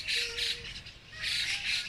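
Birds squawking and calling together in a park among trees in Japan, two bright bursts of chirping separated by a brief lull, fairly close and alone without voices.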